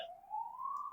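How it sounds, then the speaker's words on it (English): A police siren wails outside, one steady rising tone that swells and holds fairly loud through the moment with no talk over it. "there's your sirens for you"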